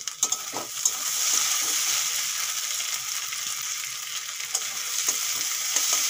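Potatoes fry in a pan with ground turmeric, chilli, coriander and cumin powders and salt, producing a steady, even sizzle throughout with occasional light stirring taps.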